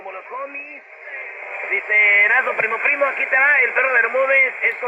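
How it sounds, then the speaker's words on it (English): A talk broadcast comes through on the AM band of a RadioShack AM/FM/weather band/shortwave radio, the narrow muffled voice sounding thin and tinny with a faint hiss behind it. "And let's go to AM, so you can hear AM."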